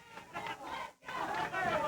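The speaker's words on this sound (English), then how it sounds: "Fans cheering" Wrestling fans cheer and yell at ringside during a Memphis wrestling match, a loud roaring crowd that dips briefly to near silence midway, then swells again.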